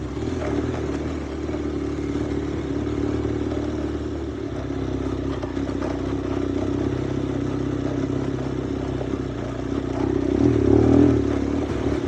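Big bike motorcycle riding off-road trail near Lobo, a steady engine drone holding throughout with a louder rev swelling near the end, close and continuous with no talking.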